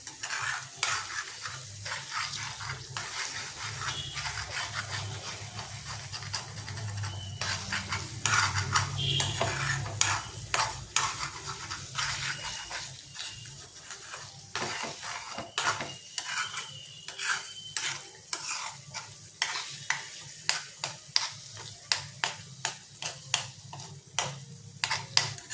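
Egg and onion curry (egg onion karam) frying in a pan, stirred gently with a utensil: repeated scraping clicks and taps against the pan over a steady low sizzle, close and continuous, with no voices.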